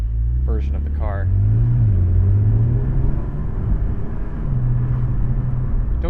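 2021 Porsche 718 Spyder with a 4-liter naturally aspirated engine and PDK gearbox, heard from inside on a canyon drive, a loud steady engine drone with slight pitch shifts as it climbs, briefly under a voice.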